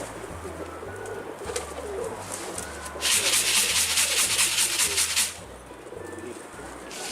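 Pigeons coo softly against a rhythmic low mechanical hum, and a burst of rustling flapping wings rises in the middle before things settle again.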